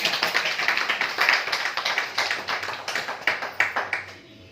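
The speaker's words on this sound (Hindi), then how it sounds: "सबके लिए तालियां बजा दो भाई।" Audience at a motivational talk clapping in quick, distinct bursts, a close and somewhat uneven patter that gradually dies away to quiet.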